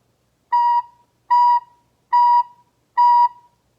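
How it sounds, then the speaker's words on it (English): Four soft, clear recorder notes, each started with a gentle T tongue attack, sound one at a time in an even rhythm with short silences between them, alone in a quiet room. "Now I want to breathe into the recorder."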